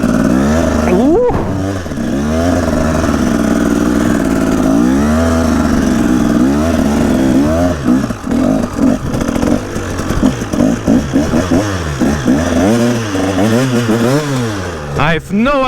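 A Husaberg TE 300 dirt bike engine drones loudly and steadily while being ridden, then shifts into repeated revving swells and throttle changes in the second half. A rider's voice may be faintly buried in the engine noise.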